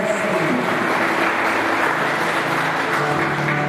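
Steady applause from a church congregation, a dense unbroken wash of clapping that holds at an even level throughout.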